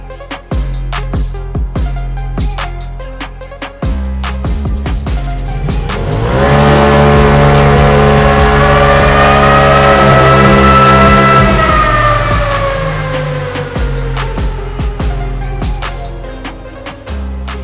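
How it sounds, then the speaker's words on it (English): A 2017 Polaris RZR Turbo runs on a rear-wheel dyno, its engine rising in a long loud rev that climbs, holds and falls away, with lighter idle and blips before and after. "So we're gonna put it on the dyno and see what kind of horsepower it makes to the rear wheels."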